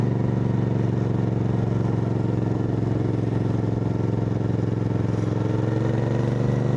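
A 2025 Royal Enfield Interceptor Bear 650 motorcycle being ridden, its engine a steady, loud, continuous drone at an even pace with no clear revving.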